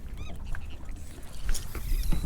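Seabirds call in short, scattered cries over open water as they dive for fish, mixed with wind and boat noise, moderately near.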